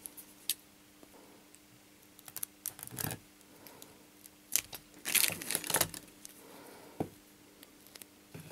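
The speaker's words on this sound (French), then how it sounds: "Alors on va découper, le coller directement et affiner la découpe une fois que c'est fait." Adhesive film being cut and pressed onto a car mirror: scattered crisp clicks, crinkles and short tearing rasps, close and quiet against a soft background, without speech.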